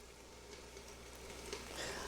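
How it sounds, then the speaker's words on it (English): Steak and vegetables sautéing in a hot pan, a soft, steady sizzle heard close up, fairly quiet, with faint stirring. "I got a steak and some vegetables sauteing"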